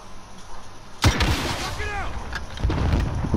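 A single loud, close gunshot in Call of Duty Modern Warfare Warzone, a sharp boom with a trailing rumble, amid game ambience and a faint voice, followed by further muffled rumbling.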